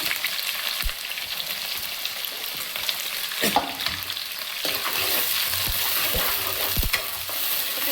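Chopped onions, green chillies and curry leaves fry in hot oil, giving a steady loud sizzle throughout with occasional scraping knocks of a stirring spoon against the pan.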